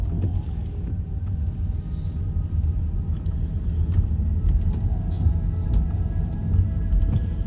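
A car engine pulls uphill on a residential road under extra gas, giving a steady, close low rumble that swells slightly with faint road noise throughout.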